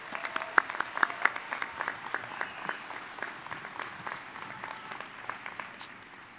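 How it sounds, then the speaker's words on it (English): Sustained applause from a commencement audience honoring the Denison University graduating class of 2020, a dense, steady patter of many hands clapping at moderate distance, continuing evenly without voices. "Can we just give them one more round of applause?"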